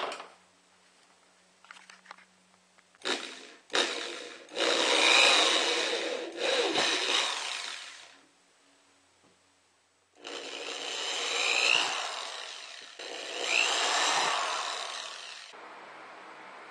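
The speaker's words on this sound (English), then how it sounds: "Finally, I went ahead and drilled a 7/8 inch hole there and a 7/8 inch hole there." A drill bores 7/8-inch holes in a homemade evaporative cooler, heard as two long, loud, rough grinding bursts with a short break between them and quieter handling noises before.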